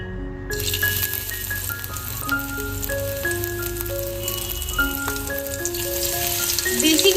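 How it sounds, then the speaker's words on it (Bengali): Prawns fry one at a time in the oil left from frying onions, a steady broadband sizzle that starts abruptly after a brief silence and holds close and even, with faint tonal background sounds. "এই বিরাস্তা ভাজার তেলের মধ্যেই আমি এক এক করে চিংড়ি মাছগুলো ভেজে নেবো"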